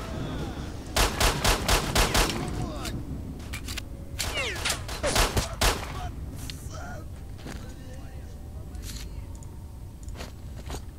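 Gunfire in the shooter game S.T.A.L.K.E.R.: Shadow of Chernobyl: a rapid burst of sharp shots, then a second volley a few seconds later, loud and close over steady game ambience, with some talk in the background.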